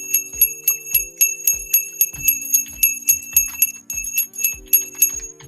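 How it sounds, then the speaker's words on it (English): A bell rung over and over to mark the market opening, loud bright strikes in a quick, fairly even rhythm of about two per second, with a faint musical tone underneath. "Go on, ring the bell"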